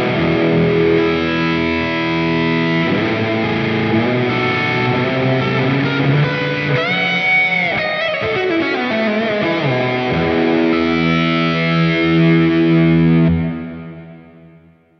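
Electric guitar lead tone run through a Line 6 Helix effects unit, a smooth distorted singing line of sustained notes and bends that plays alone and fades out at the end.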